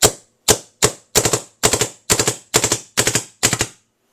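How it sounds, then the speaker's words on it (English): A DLX Luxe paintball marker runs away after a single trigger pull, firing nine sharp, loud shots in quick, fairly even succession before stopping abruptly. "Oftentimes when you get the runaway guns, if you just push the trigger and they start going"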